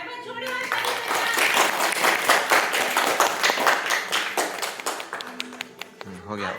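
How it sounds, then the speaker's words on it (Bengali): Audience applause at a stage drama show's award ceremony: dense, sustained clapping from a crowd for several seconds, loud and close, thinning toward the end as a voice briefly speaks. "একবার জোরে হাততালি হয়ে যাক"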